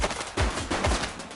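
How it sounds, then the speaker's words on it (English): Rapid bursts of gunfire in the police game The Precinct, two loud close volleys of shots ringing out in quick succession. "He's shooting!"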